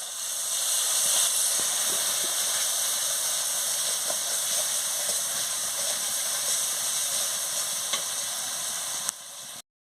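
Spices frying with ginger-garlic paste for a chicken curry, a dense, continuous sizzle and hiss close up with light stirring scrapes, ending abruptly.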